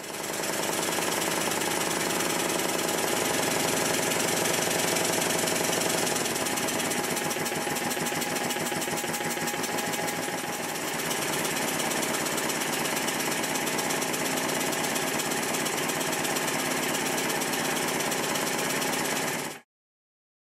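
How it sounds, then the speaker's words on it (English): A steady, rapid mechanical chugging of a small Stuart model triple-expansion engine running on compressed air, loud and continuous with a hissing undertone, stopping abruptly at the end. "once I turn up the pressure and rotate the flywheel, if all is well, the engine should run."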